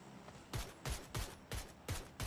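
Gunfire in a PUBG match: six sharp shots about a third of a second apart, moderately loud, with no talk.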